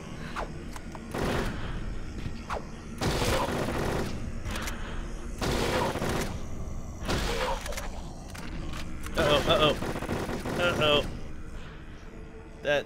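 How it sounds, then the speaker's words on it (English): Bursts of submachine-gun fire in Silent Hill 3, several rapid, loud volleys separated by short pauses, mixed with thuds and mechanical clicks, while someone talks over the shooting. "The SMG, the ammo goes real fast for that thing."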